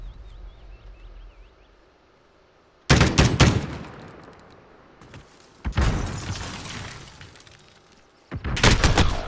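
Three bursts of rapid automatic gunfire from a Call of Duty Modern Warfare gunfight match, each loud and sharp against a quiet background, spaced a few seconds apart.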